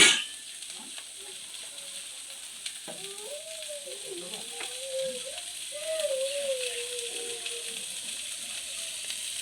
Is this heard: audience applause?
no